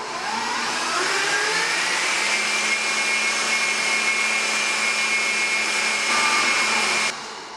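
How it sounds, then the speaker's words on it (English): An electric mixer whips white chocolate cream on high speed, a steady loud motor whine holding constant for about seven seconds before cutting off abruptly. "we're going to be pouring this into your electric mixer. And we're going to beat this on high speed until stiff peaks form."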